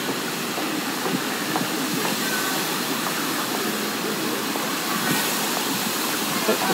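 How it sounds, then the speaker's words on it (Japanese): Fountain spraying in Okayama on a cold day, a steady broadband hiss and rush of falling water close by, continuous and fairly loud with no talk. "岡山の噴水、わあ寒いな、しぶきが来るよ"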